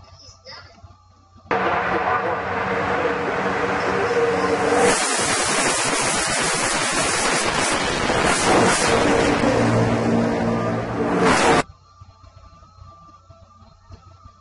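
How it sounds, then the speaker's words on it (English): A NASCAR race car at 156 miles per hour blasts past with a sudden loud roar and rushing wind noise that holds for several seconds, then cuts off abruptly. "the wind caused by the car going 156 miles per hour"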